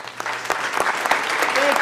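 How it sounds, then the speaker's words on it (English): School board meeting audience applauding the core team, a dense, steady wash of clapping from a room of people with a faint voice briefly audible beneath it. "How about a round of applause for them?"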